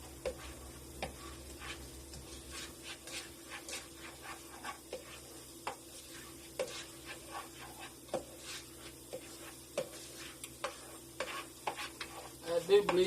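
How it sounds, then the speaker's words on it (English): Onions frying in a pan for chicken pot pie filling, stirred constantly: a soft, steady sizzle with frequent faint scraping ticks of the spoon against the pan, fairly quiet throughout, with no talking. "My onions here are just almost ready, and as you can see here, I keep stirring them constantly while I'm doing this."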